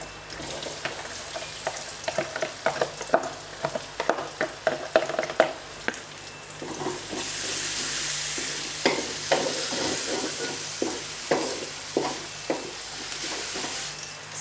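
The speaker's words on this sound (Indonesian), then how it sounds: "Minyaknya sudah panas, kita masukkan bawang putih dulu, bawang merah" Garlic and shallots frying in hot oil for stir-fried water spinach, a steady sizzle broken by repeated scraping and stirring taps of a utensil in the pan, with the sizzle swelling louder partway through.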